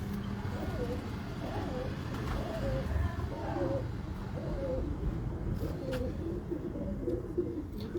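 Pigeons of a well-known breed coo in soft, repeated low calls beneath a steady background murmur, moderately near but partly masked by ambient noise and faint voices.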